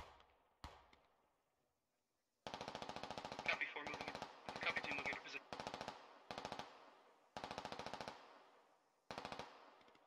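Machine gun fire rattles in the tactical shooter Squad, an early lone shot followed by several loud sustained bursts of rapid rounds separated by short pauses.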